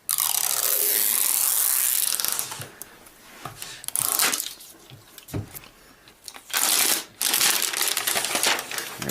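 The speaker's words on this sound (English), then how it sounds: "So we have a little zipper here to pull down to release it." The plastic wrapper of an Apple Mac Pro is unzipped and pulled off, giving loud crinkling and tearing rustles in bursts, with quieter pauses between them and a final long crackle.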